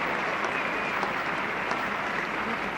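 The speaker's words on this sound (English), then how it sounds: "Applause for this partnership now" Spectators at the 1974 Pakistan versus England second Test clap for a batting partnership, a continuous, evenly sustained patter of many hands from a distant crowd.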